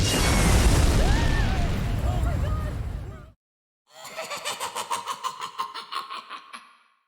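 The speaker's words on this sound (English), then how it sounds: "her plane crash into the side of a mountain" In the video game Bullet Witch, a damaged plane with a hit engine crashes into a mountainside: a loud, roaring rumble with whistling sweeps cuts off abruptly, then after a brief silence a steady rhythmic pulsing engine-like throb follows and fades.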